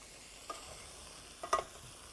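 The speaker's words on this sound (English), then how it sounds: "by sautéing the vegetables in the spices before you add the moisture" Mixed vegetables sauté in a pot with turmeric and ground spices for a vegetable curry. The sound is faint: a low sizzle with two brief scrapes of stirring.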